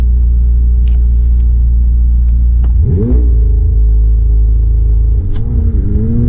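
A McLaren 720S launches hard with wheelspin, its engine note climbing in a loud, close rising sweep, then shifting and surging again, with a continuous heavy rumble throughout.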